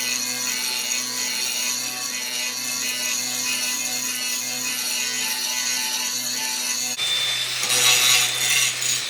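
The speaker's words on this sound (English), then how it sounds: "So he's just grinding out where we need the weld." An angle grinder grinds metal to prepare a weld joint during a homemade lathe build, a loud continuous whine with steady abrasive hiss that shifts pitch and grows rougher near the end.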